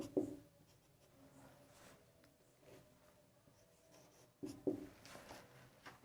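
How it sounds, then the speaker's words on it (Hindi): Writing on a board during a maths lesson, two short scratchy strokes near the start and end with quiet room tone between, close and soft, no talking. "यहाँ x लिख देते हैं।"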